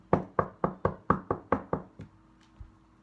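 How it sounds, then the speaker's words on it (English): Knocking on a door in a quiet room: eight firm, evenly spaced raps, close and loud, then two softer isolated knocks after a pause. "There's so much knocking."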